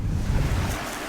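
A small river in northern Scotland rushes in a steady, broad wash of water noise, close by, with wind buffeting the microphone and no voices.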